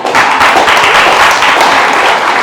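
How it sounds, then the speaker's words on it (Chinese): A church congregation gathered for a Sunday school service breaks into applause, a dense, loud wash of many hands clapping close by that stays steady throughout without any voices. "好，大家拍手"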